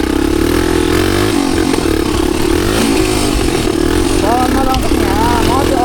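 A motorcycle engine idling and revving close by, a loud continuous rumble with rising and falling throttle, with someone talking over it.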